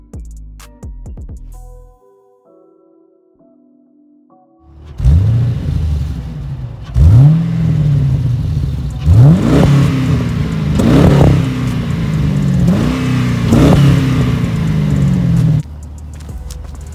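A 2008 Pontiac G8 GT with its 6.0L V8 idles quietly, then pulls hard with several rising revs and gear changes, the exhaust booming loud and close, alone without any voices.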